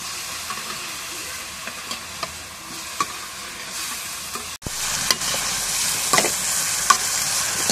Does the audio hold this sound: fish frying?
yes